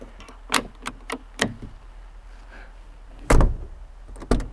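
Several sharp knocks and thuds ring out from the door of an Audi 90 Quattro Sport in a scrap yard, followed by one heavy closing slam, then another clunk. There is no talking.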